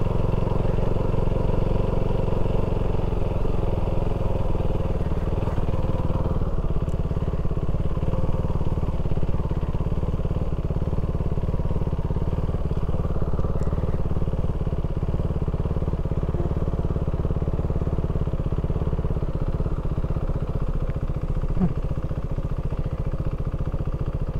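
A motorcycle engine runs steadily at a wet campsite check-in, a loud, close, continuous idle with a low mid-range rumble and occasional clatter for the whole stretch, with no talk over it.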